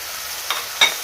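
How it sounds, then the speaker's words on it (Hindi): Keema and onion fry in a pan, a steady close sizzle with two brief bursts of stirring scrapes. "कीमा और प्याज का कलर भी चेंज हो चुका है, इससे फ्राई हो गया अच्छी तरह"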